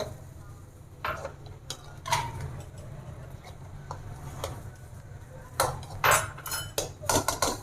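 Chicken karahi being served from the pot into a dish, a string of metal spoon scrapes and clanks on cookware, irregular and fairly close, over a low steady hum.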